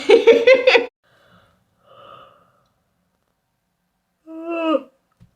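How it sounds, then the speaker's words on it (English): A drawn-out vocal yawn with a strained, breathy tone, followed by quiet breaths and a second shorter, higher yawning sound, close and alone. "That was a very genuine yawn."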